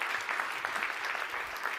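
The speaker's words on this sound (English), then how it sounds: "A very, very warm round of applause, please, to these lovely panelists" Conference audience applauding a cybersecurity discussion panel: a fairly soft, even stretch of continuous clapping from a seated crowd, with no voices over it.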